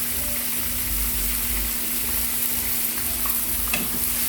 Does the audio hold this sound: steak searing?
yes